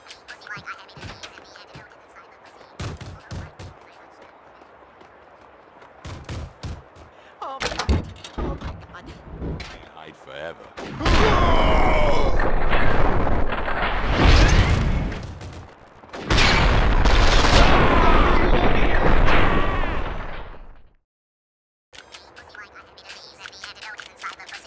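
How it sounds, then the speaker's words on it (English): An explosion in the Max Payne 2 video game comes in as loud, sustained roaring blasts and rumbling booms following quieter stretches with a voice talking, then cuts to near silence. "The sound of an explosion came from the direction of my apartment."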